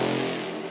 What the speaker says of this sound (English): there's also bass shots in there, just to give it a little bit more groove